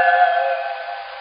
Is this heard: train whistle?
yes